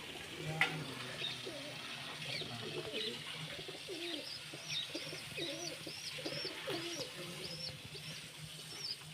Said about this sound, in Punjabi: ਸਾਰੇ ਬਾਈ ਦੇ ਵੱਡੇ ਕਬੂਤਰ ਨੇ